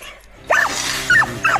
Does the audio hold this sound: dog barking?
yes